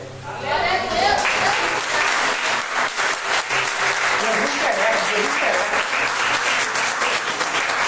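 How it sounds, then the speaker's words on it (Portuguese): A standing congregation at a healing and deliverance service breaks into loud, dense applause for Jesus, the clapping sustained and close while voices call out over it. "E eu quero que vocês aplaudam Jesus de pé."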